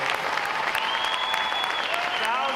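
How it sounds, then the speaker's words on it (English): Loud, continuous audience applause at a U.S. Navy boot camp graduation for unit and individual award recipients, a thick crowd clapping roar with a thin whistle-like tone gliding above it. "how about another round of applause for our unit and individual award recipients?"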